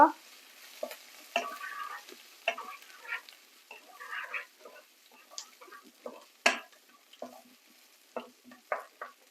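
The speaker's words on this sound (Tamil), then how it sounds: "கருவேப்பில உள்ளி சின்ன சீரகம் கடுகு இவெல்லாம் போட்டு இப்படி நான் தாளிக்கிறேன்" Curry leaves, garlic, cumin and mustard seeds crackle and pop in hot oil, with scattered sharp sizzles and light stirring scrapes in a quiet room.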